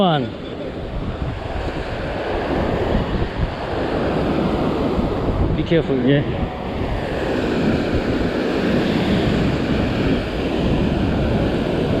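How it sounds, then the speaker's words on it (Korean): Strong ocean waves surge and wash continuously at a shore where people are fishing with long-distance casting, with loud wind buffeting the microphone throughout and a few brief voices talking over the surf. "파도가 상당히 세죠"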